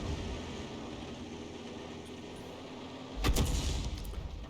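A 105 mm leFH18B2 howitzer shell in a tank video game gives a sudden heavy boom near the end, after a steady low rumble of engine and ambience, with no talking.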